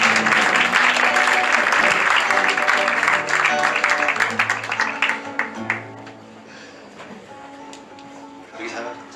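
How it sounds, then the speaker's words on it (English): A theatre audience at a mind-reading stage show gives a warm round of applause, loud and dense for about five seconds before thinning out and fading, with voices talking over the tail end. "A warm round of applause"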